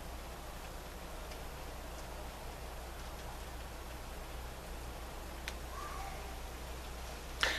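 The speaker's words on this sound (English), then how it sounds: "That sound you're hearing is rain. Yeah, well, it's little sprinkles." Light rain sprinkles down outdoors in California, a steady soft hiss with faint scattered taps throughout and one brief sharper tick near the end.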